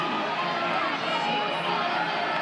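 Softball crowd at a Miami (OH) versus Oklahoma game, a steady broad roar of many voices calling out together, loud and continuous throughout without a clear break.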